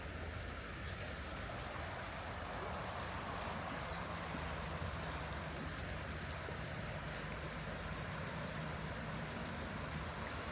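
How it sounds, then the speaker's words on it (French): Constant rushing of the swollen, muddy Palmones river near Tarifa, a dense unbroken roar of flowing water close by, with no voices. "La rivière, elle est bien marron. Elle est très haute."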